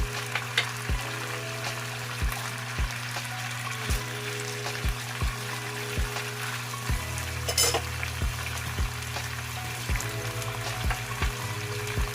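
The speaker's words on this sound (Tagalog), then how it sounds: "ilagay ko na yung aking sibuyas para maluto" Chopped white onion fries in a pan with a steady close sizzle, punctuated by regular low thumps and stirring knocks throughout, with no talking.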